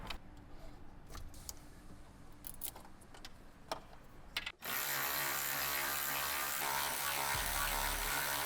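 Tool clicks and metallic handling while removing 13mm nuts from the rear suspension of a raised C8 Corvette Z06, then a loud sustained power-tool whir takes over for the remainder.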